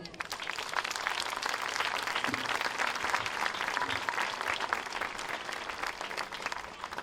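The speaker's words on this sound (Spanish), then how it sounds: "Para los dos, un fuerte aplauso" An audience at a live bagpipe band gathering in Castrillón applauds the musicians, a dense, steady wash of many hands clapping heard from a distance, fairly faint, with no voices over it.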